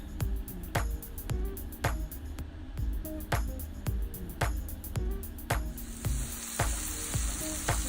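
Mushrooms sautéing in a pan for a smoked Gouda sandwich, a steady sizzle broken by regular scraping strokes of a spoon stirring them, close and fairly loud with no voices.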